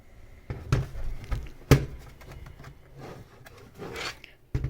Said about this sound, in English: to open this up, you really all have to do is take off two screws